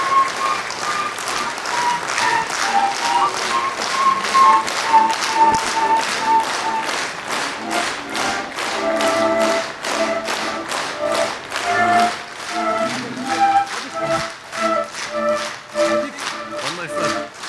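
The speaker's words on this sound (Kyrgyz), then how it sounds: "Баарыңыздар туруп, кол чаап койсоңуздар." An audience at a live meditation meeting in Bishkek stands and claps, producing a steady, dense patter of hand claps that runs throughout, with a faint tonal sound underneath.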